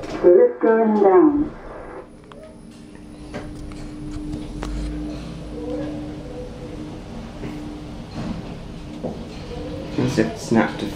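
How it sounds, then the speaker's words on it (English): A university passenger lift travelling down, a low steady drive hum with faint ticks and clunks from the car, quiet and continuous after a short stretch of speech at the start. "The lift going down."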